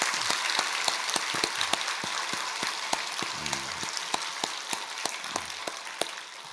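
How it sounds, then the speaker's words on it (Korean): A church congregation claps during a Christmas service, a sparse, fairly faint patter of individual claps with no talk. "한번 박수해 주시기 바랍니다."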